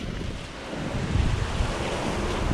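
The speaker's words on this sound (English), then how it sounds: "What with this wind that's gusting up to about 40 miles an hour, according to the forecast." Strong gusting wind, forecast at up to 40 mph, roars steadily across a microphone during a wet bicycle ride, a dense broadband buffeting that swells slightly in the second half with no talking.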